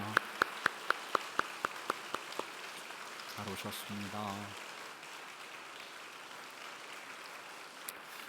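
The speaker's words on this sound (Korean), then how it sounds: "우리 축복의 박수 하도록 하겠습니다" Church congregation at a Sunday service in Daegu applauding newcomers as a blessing, a soft rain-like wash of many hands that follows a few sharp, evenly spaced taps, while someone speaks briefly over it.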